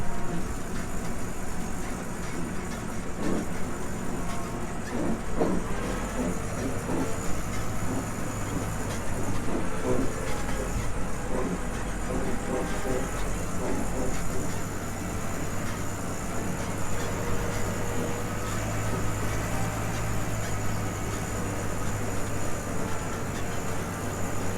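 A Hustler LM104 chainless bale feeder runs, giving a steady, loud low engine drone with rumbling mechanical churning throughout, with no breaks.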